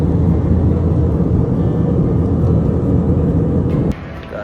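An airplane passing overhead gives a broad, steady roar that holds loudly for about four seconds, then drops off abruptly.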